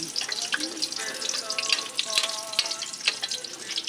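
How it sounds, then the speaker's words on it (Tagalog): Pancit bihon ingredients, garlic among them, stir-fried in a pan, giving a steady crackling sizzle with scattered sharp clicks from the stirring utensil and a faint running-water wash underneath. "ating hahaluin hanggang magkulay brown kababayan"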